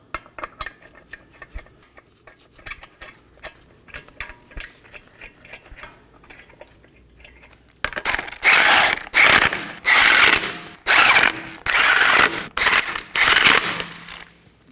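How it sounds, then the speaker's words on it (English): Five 21mm lug nuts go onto a front wheel of a 2015-2023 Nissan Maxima, first with scattered metallic clicks and light ratcheting taps by hand, then loud bursts of a power tool spinning them down, one after another, close up. "I'm going to install my 5 21mm lug nuts"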